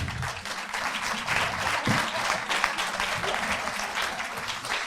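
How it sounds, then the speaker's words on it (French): Audience applause at an EcoJardin certificate ceremony, steady dense clapping from a crowd of moderate size, fairly even in level for several seconds with a faint voice underneath. "On peut les applaudir."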